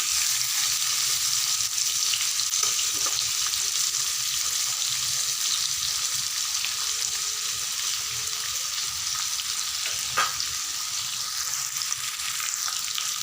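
Pieces of young green jackfruit fry in hot oil in a pan, giving a steady, close, continuous sizzle with occasional stirring clicks and no voices.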